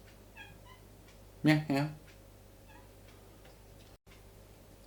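A cat in a hallway meows twice in quick succession at moderate distance, with a brief spoken word nearby and quiet room hum around it.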